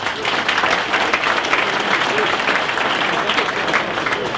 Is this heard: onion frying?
no